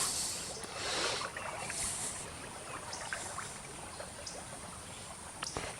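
Canoe gliding down the Upper Little Manistee River between Spencer and Indian Bridges, with soft steady water trickling and lapping against the hull and a few light paddle knocks, no voices.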